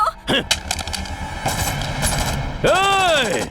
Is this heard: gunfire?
yes